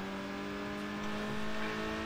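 Toyota car engine in the video game Need for Speed Underground, a steady droning rev with layered harmonic whine that swells slightly toward the end, heard alone without talk.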